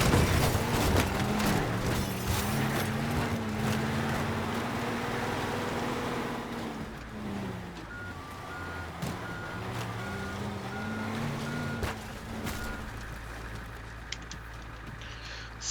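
In Teardown, a truck rams into a house: a loud engine drone with steady reversing beeps runs throughout, broken by several sharp crunching impacts.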